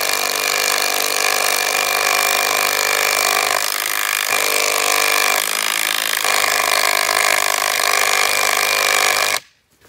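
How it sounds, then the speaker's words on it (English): A power drill bores into a frozen wooden fence post, producing a loud, sustained high-pitched grinding whine with a couple of brief dips in load, then stopping abruptly at the end. "so that's the side I wanna drill on"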